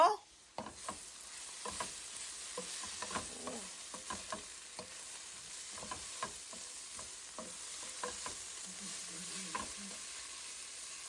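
Chopped onion, garlic and green chilies fry in a pan for bitter gourd bhaji, a steady low sizzle punctuated by repeated spatula scrapes and stirring knocks, close and alone.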